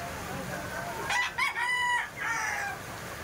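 A young gamecock stag crows once, a loud close cock-a-doodle-doo rising and then held, set against a steady background hum.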